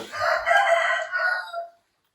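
A rooster gives one loud, close crow lasting under two seconds, followed by silence.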